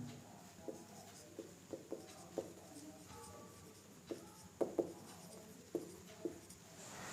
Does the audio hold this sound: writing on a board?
yes